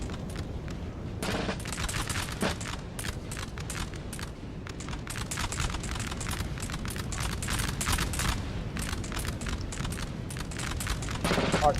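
Dense, continuous musket volleys and artillery fire crackle across a Napoleonic battlefield in Napoleon: Total War, a steady rattle of overlapping shots with occasional heavier booms, loud and sustained throughout without talk.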